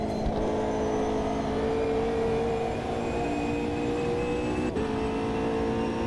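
Race car engines in a racing sim, Assetto Corsa Competizione or Automobilista 2, during a multiclass race with a Mercedes, BMW and Porsche GT4 cars, a steady high-revving drone with brief shifts in pitch and no talking.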